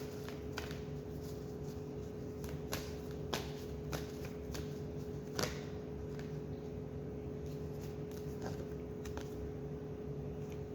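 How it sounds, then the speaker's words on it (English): A deck of oracle cards is shuffled by hand, soft riffling with a string of sharp card snaps and clicks, quiet and close in a still room with a faint electrical hum. "I'm going to do one more shuffle."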